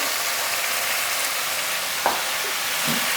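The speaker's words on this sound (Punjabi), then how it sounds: "ਇਸ ਦੇ ਨਾਲ ਹੀ ਮੈਂ ਮਸ਼ਰੂਮ ਪਾ ਦਿੰਦਾ ਜਿਹੜੇ ਮਸ਼ਰੂਮ ਕੱਟੀਆਂ ਸੀ" Chopped mushrooms frying in a pan for a mushroom quinoa dish, a steady soft sizzle throughout with a brief stirring clatter near the end, heard alone without talk.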